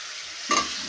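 Boiled potatoes and an egg dropped into a hot pan, a sudden burst of sizzling and frying over a steady background hiss, close by.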